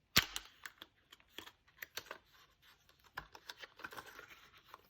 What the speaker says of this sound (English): Another roll of washi tape. I'm sorry if the sound of this is loud.